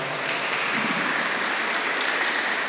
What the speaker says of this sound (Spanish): Dele una lluvia de aplausos.